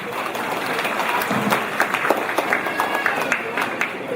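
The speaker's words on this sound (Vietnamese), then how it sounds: "Xin quý vị một lần nữa cho một tràng pháo tay thật lớn" A crowd applauds at the Toronto Tet fair, a Lunar New Year festival, with steady clapping that builds and holds with scattered louder claps throughout.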